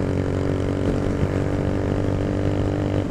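A motorcycle engine with an open exhaust runs at a steady idle, a close, continuous low rumbling drone with a buzzing tone that holds even with no voices.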